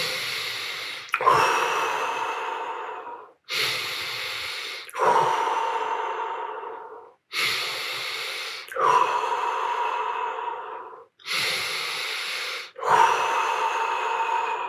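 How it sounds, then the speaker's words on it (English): Deep, forceful breaths in a tummo breathing session, six long rushing airflow cycles in a steady rhythm, each with a sharp start and a gradual fade, close and loud with no talking. "5 deep breaths."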